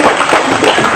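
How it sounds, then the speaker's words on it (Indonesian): Applause from a crowd at a company family gathering in Citeko, Bogor, a dense, steady wash of many hands clapping close and loud across the whole moment, with no voices on top. "Tepuk tangan dong."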